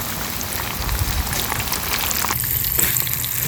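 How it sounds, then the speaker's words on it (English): Bluegill fish sizzles in a hot frying pan: a dense, steady crackling hiss with bubbling oil, close and continuous throughout, with no voices. "It should start bubbling like crazy."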